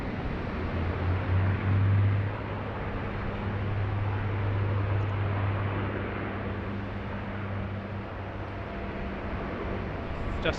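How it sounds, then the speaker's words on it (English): An Australian Army MRH-90 helicopter passes over Sydney Airport, a steady broadband rotor and engine roar holding at even loudness throughout, with a low thrumming drone that swells early and then lingers under the wash. "Justin Simmons just had an Australian Army MRH-90 flyover."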